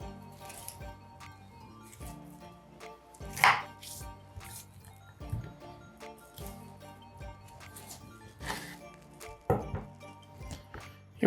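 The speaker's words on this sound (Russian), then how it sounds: "просто разрезаем ножом вдоль кости" A knife cuts through a pork shank along the bone on a kitchen board, with scattered soft cuts, occasional sharper clinks and knocks, fairly close and quiet, without talk.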